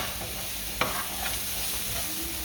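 Vegetables sweating in a pot for Jamaican coconut curry shrimp, a constant gentle sizzle with one brief clink of a utensil, heard alone.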